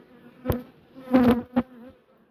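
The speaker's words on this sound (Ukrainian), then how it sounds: "То оці такі малесенькі бджоли" Small honey bees buzz in brief bursts close by, a few passes of droning hum rising and fading with short gaps in between.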